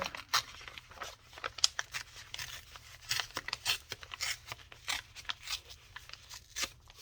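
Paper being ripped by hand for a craft pocket, heard as a series of close, crisp tearing and crinkling bursts of uneven length throughout, with no talk.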